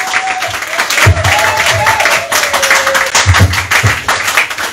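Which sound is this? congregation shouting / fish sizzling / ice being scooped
congregation shouting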